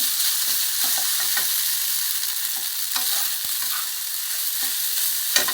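Rice with tomato and seasoning is stir-fried in a pan. A steady high sizzle runs throughout while a spatula scrapes and clicks at irregular intervals, close by, and no one speaks.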